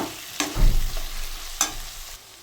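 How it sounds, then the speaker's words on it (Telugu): Turmeric is stirred into a frying bommidala fish curry in a pan, with a steady low sizzle and two distinct scraping strokes of the spoon, close up and with no talking. "పసుపు వేసి కలపండి"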